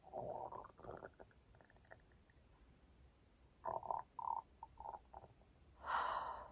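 A stomach gurgles in soft, irregular bursts, a few short bubbly rumbles followed by a louder, longer gurgle near the end, close and quiet with no talking, in someone with a throat condition that blocks burping who has been drinking fizzy drinks.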